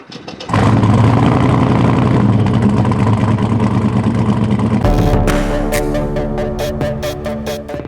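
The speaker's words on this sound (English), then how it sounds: "The Javelin is equipped with an LS3 GM performance crate motor capable of 500 plus horsepower" An LS3 GM crate V8 in a 1970 AMC Javelin restomod fires up and rumbles loudly and close, a deep steady idle that shifts in tone partway through with a brief rev, heard alone without speech.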